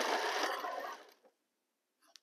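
A sewing machine stitching fabric at home, a steady close whirring run of about a second that slows and stops, followed by quiet and a faint click.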